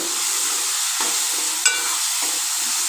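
Onions cooking slowly in a pan until brown, a continuous even sizzle with a few soft stirring scrapes and a faint clink, close by and without talking.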